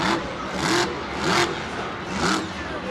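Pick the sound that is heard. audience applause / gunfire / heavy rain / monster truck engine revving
monster truck engine revving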